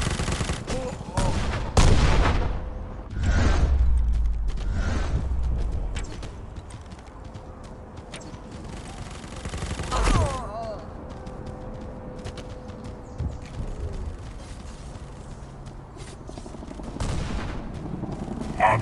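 Gunfire in the mobile shooter Guns of Boom comes in bursts and single shots at varying distances, mixed with game effects and announcer callouts.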